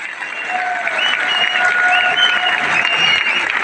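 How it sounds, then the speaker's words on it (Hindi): Loud, dense crowd applause at a Safe Shop gathering, steady and sustained throughout with a faint whistle or cheer riding over the clapping. "जोरदार तालियां।"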